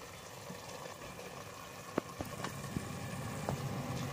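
Gentle bubbling of sardine fish curry simmering with coconut paste in a pot, with occasional soft pops and a steady low hiss.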